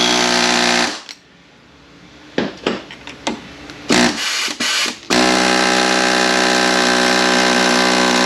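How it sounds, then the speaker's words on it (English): An air hammer fitted with a bit knocks a part loose while a BAXA unit is taken apart. A loud steady motor drone is broken by several short, hard bursts of hammering in the middle. "I just get an air hammer with the bit on it"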